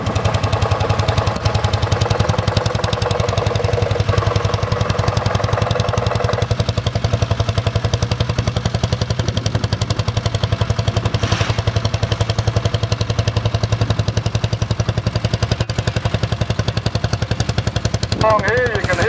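A Lanz Bulldog tractor driven on a graded track runs with a steady, loud single-cylinder thump that continues unbroken, close by, with other tractor machinery faintly around.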